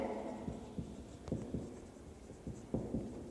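Marker or chalk writing on a classroom board during a Class 9 maths lesson on circles, with repeated short scratchy strokes and taps, fairly close and alone, with no talk over it.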